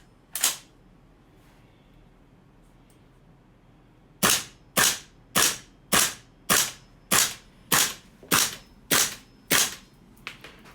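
A GHK AR-style airsoft rifle fitted with an RA-TECH magnetic locking NPAS composite loading nozzle fires one shot, pauses, then lets off ten crisp, evenly spaced shots in steady rhythm, loud and close with no talking.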